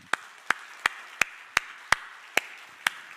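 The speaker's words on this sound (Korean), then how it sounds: "우리 한번 이렇게 너희들은 참 귀중하다 그러면서 박수해 주시기 바랍니다." Steady, evenly spaced claps ring out in a church as a congregation applauds the children, about nine crisp hits in a slow regular beat over a quiet room.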